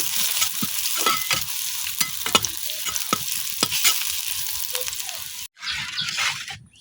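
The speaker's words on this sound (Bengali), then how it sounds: "তো ডাল বাগানের জন্য পেঁয়াজ রসুন ভাজি করে দিতেছি।" Onion and garlic fry in oil for a dal tempering, giving a continuous crackling sizzle with repeated sharp stirring scrapes. The sound cuts out abruptly near the end, then the sizzle briefly returns.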